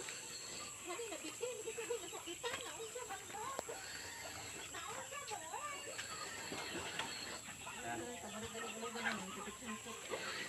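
Chickens, including newly hatched chicks, cluck and chirp busily as they eat organic feed, giving a dense stream of short calls up close with a steady background hiss and some voices.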